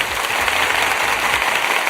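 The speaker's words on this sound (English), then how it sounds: "Let me give you some applause here upon this Monday morning here." A canned applause sound effect plays on a Monday morning radio show, a steady, full burst of clapping and crowd noise lasting a couple of seconds with no talk over it.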